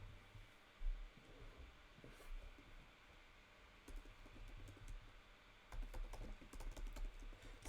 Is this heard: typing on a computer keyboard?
yes